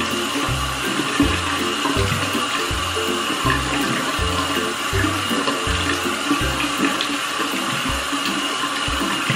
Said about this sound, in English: And then I put this underneath the water just for a split second, and then I do it again.